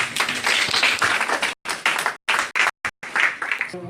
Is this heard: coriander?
no